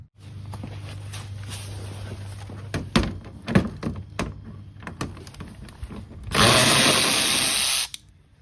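Bolts come off a Toyota 3.5L V6 engine near the radiator hose, with scattered metallic clanks and ratchet knocks, then a loud steady whirring burst of a power tool for over a second before stopping.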